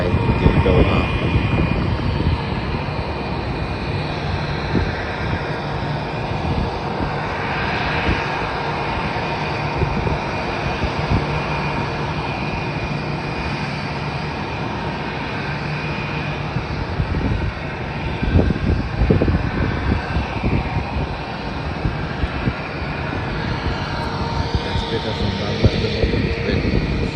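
Airliners departing and landing at an airport, a continuous loud jet engine roar and rumble that rises and falls slightly throughout, heard from the ground without talk.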